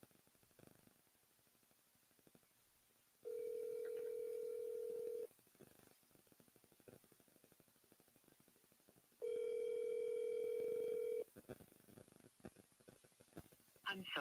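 An outgoing phone call rings out: two long, steady ringback tones separated by a few seconds of faint line hiss, heard alone and fairly quiet.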